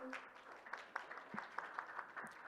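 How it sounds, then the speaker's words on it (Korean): Audience at a signing ceremony for an open cloud platform cooperation agreement gives steady, fairly faint applause, a continuous patter of claps lasting a couple of seconds. "여러분 따뜻한 박수로 축하해 주십시오."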